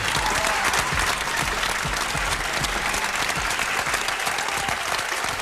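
Small group applauding inside a radio studio, continuous even clapping at moderate level with no breaks, sustained from start to finish.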